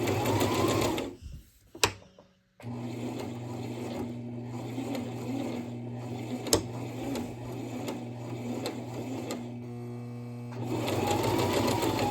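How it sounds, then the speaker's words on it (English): A sewing machine stitches inner lining onto striped fabric for an Ernie shirt, running in a steady close whir with a brief stop and restart early on before it continues evenly. "Now I'm going to sew the inner lining onto my striped fabric for my Ernie shirt"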